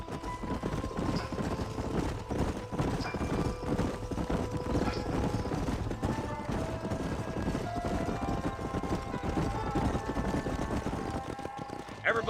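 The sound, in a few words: horses galloping, hoof clip-clop, in a video game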